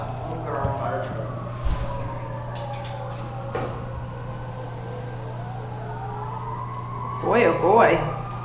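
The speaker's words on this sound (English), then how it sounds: "So I see a fire truck going down." A fire truck siren rises and falls in the distance as it passes, heard faintly behind a steady low hum, with a voice speaking briefly near the end.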